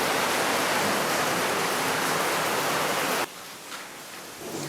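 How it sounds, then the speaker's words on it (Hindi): Heavy rain pours down as a dense, loud hiss that suddenly drops to a softer patter partway through, with no voices. "सॉरी बारिश आ गया भाई।"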